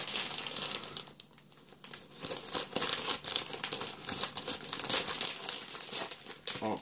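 Foil packets of Panini Adrenalyn XL FIFA 365 trading cards are torn and opened: steady, close crinkling and crumpling with bursts of sharp tearing, fairly quiet and without talk.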